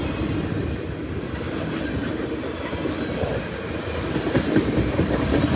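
A freight train led by NS locomotives 4885 and 4889 rolls past up close, with a continuous loud rumble of wheels and rhythmic clickety-clack from the passing cars.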